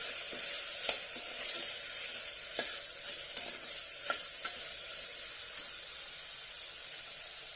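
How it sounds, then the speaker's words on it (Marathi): Garam masala, turmeric and salt sautéed for moong pulao, with a steady frying sizzle and repeated light scrapes and taps of a spoon stirring in the pan, close and without talk. "एक चमच गरम मसाला चवीनुसार मीठ आणि छानपैकी आपण हे परतून घेऊया"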